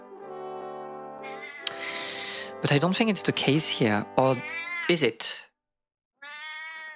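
A pet cat gives several loud, drawn-out meows in quick succession close to the microphone, mixed with someone talking and game music, then a short pause and a final tone.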